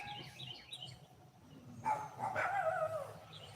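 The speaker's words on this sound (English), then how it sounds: "They're out there bow wowing at the neighbor dogs." Dogs bark outdoors at neighboring dogs, a few short barks at a moderate distance, mixed with birds chirping in the background.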